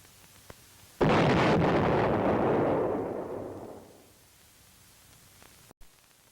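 An explosion demolishing a Vietnam War tunnel entrance: one loud, sudden blast whose heavy rumble stays strong for a couple of seconds, then fades slowly into faint background hiss.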